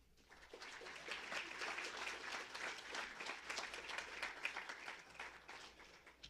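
Audience applause at a Goodwill awards of excellence evening in Licking/Knox, a dense, steady wash of many hands clapping that swells and continues throughout, with a faint voice or two underneath.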